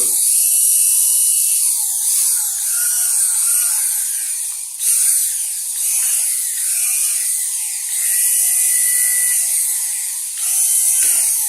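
A Fakir Vienta 1700W blender runs empty with a loud, high-pitched motor whine that holds steady throughout, with slight wavering in pitch and one short dip midway.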